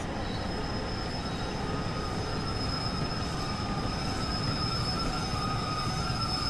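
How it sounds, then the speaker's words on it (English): A departing train in Train Sim World 2 on a West Cornwall local route gives a steady high-pitched wheel squeal over a continuous low rumble at moderate volume. "Ooh, listen to that squeak as well."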